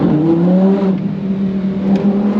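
Lamborghini engine revving hard through a drift, a close, loud, steady high-pitched roar with slight pitch swings, heard without talking.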